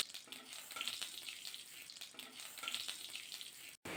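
Whole cumin, a split dried red chilli and a torn bay leaf sizzle and crackle steadily in hot mustard oil in a kadai, a close, continuous frying hiss with small pops, no voices.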